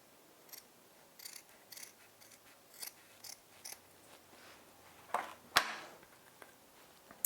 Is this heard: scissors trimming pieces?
yes